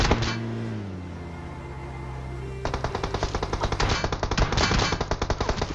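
A battle royale video game firefight, with a rapid stream of close, loud automatic gunfire that sets in partway through and rattles on steadily, following a stretch of lower game background noise, with no voices.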